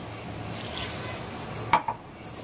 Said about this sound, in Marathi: आता मी पाणी घालून घेते.